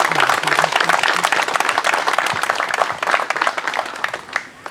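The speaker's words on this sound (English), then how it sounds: "Big round of applause for our veterans." A crowd claps for veterans at a POW-MIA gathering, dense sustained applause that stays loud throughout before thinning slightly at the end, with a brief voice at the start.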